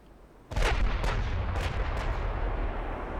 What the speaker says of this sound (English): My battleships are already firing.